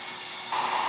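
A heat tool set on high to heat set laser printer ink on watercolor paper: a steady, breathy blower hiss that gets louder and brighter halfway through, with no talking.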